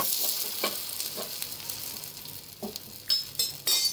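A bun dosa sizzles steadily in a pan just after being flipped, with close, soft crackling and a few brief louder spatters near the end, and no voices.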